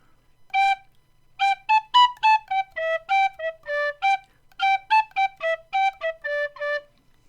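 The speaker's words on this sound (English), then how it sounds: "If I start and stop the note with the tongue, I get staccato" Tin whistle played in short staccato notes, each started and stopped with the tongue, a quick run of clean, clipped high tones with brief silences between them, played alone and close.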